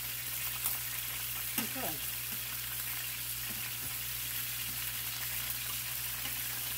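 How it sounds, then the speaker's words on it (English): Chicken fries in a pan with a steady, broadband sizzle that holds throughout, with faint scraping near the two-second mark and a brief spoken word early on. "Yeah, it's sizzling."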